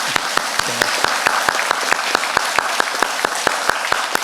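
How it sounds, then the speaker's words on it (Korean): Guests at a pastor's book launch ceremony clap together in a steady, evenly spaced rhythm, about nineteen sharp beats at a brisk pace, loud and close over a soft background hum. "그렇게 박수 보내주세요"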